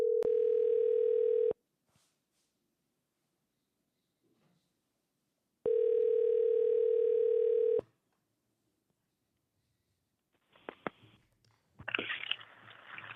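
A phone line gives two long, steady outgoing ring tones with a silent gap between them during a call back to a podcast caller, followed by faint handling noise and a burst of connection noise at the end.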